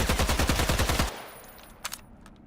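An AK rifle in the video game Islands of Nyne fires a loud, rapid burst of about a dozen shots. It then stops abruptly, leaving faint quiet clicks and ambience.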